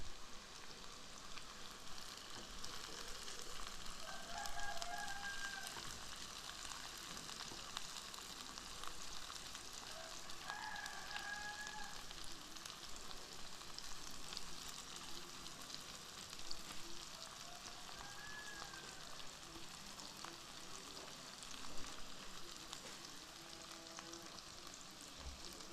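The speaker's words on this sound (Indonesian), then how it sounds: "Masukkan pete, ikut ditumis." Stink beans (pete) stir-fry in a pan with a soft, continuous sizzle, quiet and even throughout, with a few faint scrapes of stirring and no talking.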